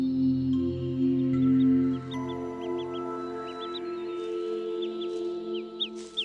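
A hen duck on her nest gives repeated low calls while faint, high peeps from ducklings hatching inside their eggs sound in short scattered bursts, close and quiet, with no talk.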